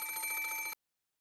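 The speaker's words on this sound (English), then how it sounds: "Ah, the phone is ringing." A telephone bell rings in a rapid trill inside an anime drama office setting, loud and close, one short burst of about three quarters of a second before cutting off to silence.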